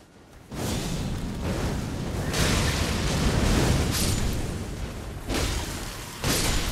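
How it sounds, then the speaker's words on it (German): Heavy weapon strikes from the video game Elden Ring, a series of loud booming impacts with rushing bursts, several hits following each other over a sustained roar of game sound. "Die knallt. Ist auch eine schwere Waffe."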